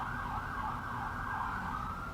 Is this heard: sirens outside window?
yes